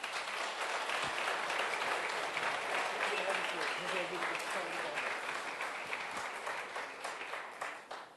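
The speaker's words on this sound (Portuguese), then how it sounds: "eu queria convidar o Diego Busato, vamos receber ele com uma salva de palmas" An audience claps in welcome as a speaker is invited up at a business success talk, a sustained wash of many hands that holds steady, then tapers off toward the end.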